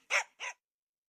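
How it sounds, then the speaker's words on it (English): Two quick barks from a dog, close and fairly loud, each short and sharp with a brief pause between them, then silence. "Look at the dog."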